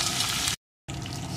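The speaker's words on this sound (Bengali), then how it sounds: "এখন এই তেলের ভিতরে দিয়ে দেবো 1 চামচ থেতো করা আদা আর রসুন" Crushed ginger and garlic fry in hot oil left from frying chicken, giving a steady close sizzle with a brief complete silence in the middle before the crackling resumes.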